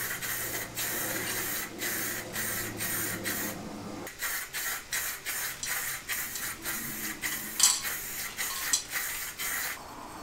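A spray paint can coats a Cannondale bicycle frame in a rhythmic series of short hissing bursts separated by brief pauses, close and clear, with no talk.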